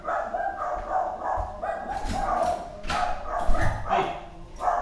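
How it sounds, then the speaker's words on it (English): Several pet dogs barking close by indoors, a run of repeated yapping barks overlapping each other in quick, uneven bursts over a murky background. "Sorry about the dogs."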